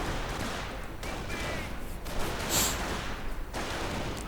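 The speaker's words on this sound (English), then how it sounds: "off-map artillery going in against the mortar and the flak" Off-map artillery fire in a WWII strategy video game, a dense fusillade of distant booms and crackling impacts under a low rumble, without speech.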